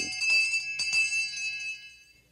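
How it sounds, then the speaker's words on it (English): A hand bell is tingled excitedly in an animated telling of The Hunting of the Snark, giving a couple of quick bright rings that leave a clear metallic tone fading over about two seconds. "the bellman cried, "Silence! Not even a shriek!" and excitedly tingled his bell"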